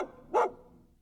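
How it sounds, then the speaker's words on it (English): Xander, a dog in a video game, gives a single short woof, clear and fairly close, followed by a quiet fading tail. "He came closer, woofing."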